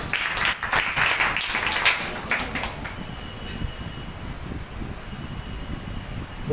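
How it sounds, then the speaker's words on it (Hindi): Audience clapping for young girls at a Jain religious discourse gathering in Kekri, Rajasthan: a burst of dense applause for about three seconds that then fades into room murmur. "ताली बजाओ बच्चियों के लिए।"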